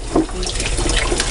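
Tap water runs steadily into a sink while a Gold Cube gold-mining sluice is rinsed, a constant hiss and splash close by.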